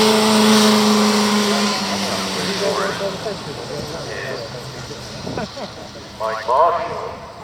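A classic Bugatti Type 35 racing car at the Prescott hill climb, its engine note rising and falling as it accelerates away, with a later snarl of revving as another pass comes through, while someone talks over it.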